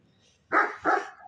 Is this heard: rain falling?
no